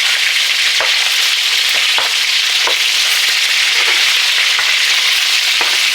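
Lamb chops fry in an aluminum pan with a loud, constant sizzle and crackle, broken by occasional pops and scrapes as they are stirred, with no voices.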